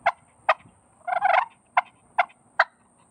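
A push pin turkey call makes single sharp clucks, spaced apart around a short run of quicker clucks in the middle, close and clear with no other sound.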